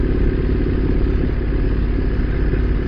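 A motorcycle engine pulls steadily in second gear at just over 2000 RPM, a loud, close, continuous rumble with a throbbing low-end pulse and faint mechanical clatter, no voices over it.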